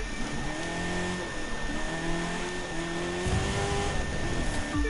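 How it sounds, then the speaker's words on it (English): A muscle car engine racing in The Crew 2, droning steadily close up with rising pitch sweeps as it accelerates and shifts, and a heavier surge near the end. "skilled muscle car coming up to take the lead"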